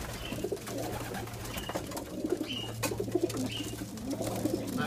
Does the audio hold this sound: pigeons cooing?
yes